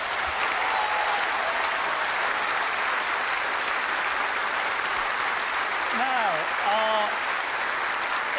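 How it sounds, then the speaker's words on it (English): A studio audience applauds loudly and continuously for several seconds, and a presenter's voice begins speaking over the clapping near the end. "Give them a round of applause."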